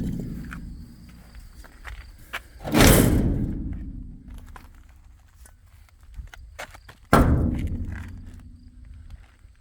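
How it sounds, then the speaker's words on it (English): Two heavy slams of a door being shut ring out a few seconds apart, each followed by a fading rumble, with scattered footsteps and knocks around them. "Let me shut this door up."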